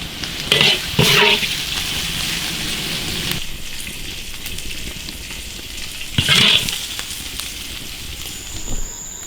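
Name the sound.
beef tripe stir-frying in a wok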